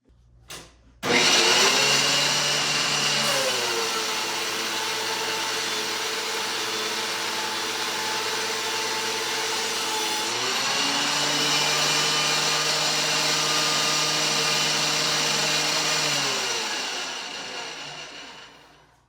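Woodworking planer with a helical cutterhead switching on after a short click, then a loud, steady whirring roar that holds and wavers slightly midway before spinning down at the end, with no talking.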